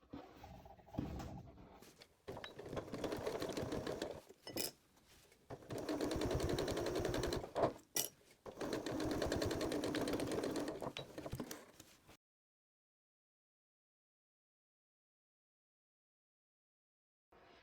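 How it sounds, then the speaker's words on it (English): A sewing machine top stitches along folded bias tape. It runs in several sustained bursts with brief pauses and sharp clicks between them, and then falls silent. "Now we'll top stitch just about 1/8 of an inch away from this folded edge."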